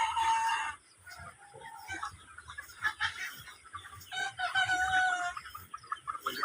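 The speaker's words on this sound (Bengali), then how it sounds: "এই যে এখানে আছে অনেকগুলো মুরগি" Several chickens on a farm cluck and cackle continuously at close range, with a rooster crowing among them; the sound dips briefly near the start and then stays busy and fairly loud throughout.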